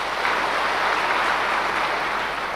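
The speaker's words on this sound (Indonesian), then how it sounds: "Terima kasih, tepuk tangan." A crowd of thousands of teachers applauds at a large rally, a dense, steady wash of clapping that holds evenly loud throughout.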